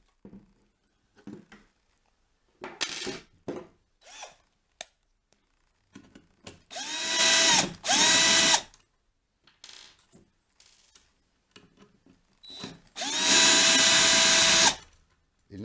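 A power driver runs in several loud sustained bursts while a marker is fastened to a benchtop conveyor, with clinks and handling of parts and tools between the bursts, close by.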